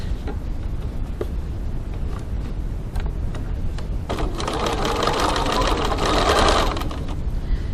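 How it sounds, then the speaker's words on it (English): Sewing machine stitching the sides of a fabric pocket with a steady close mechanical chatter, over a constant low hum, with light ticks and a brighter faster stretch midway. "to stitch the sides of my pocket"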